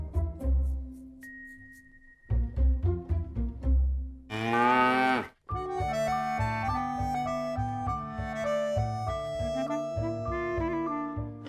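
A cow from a Finnish family film gives a single drawn-out moo midway through, set between stretches of bright melodic music.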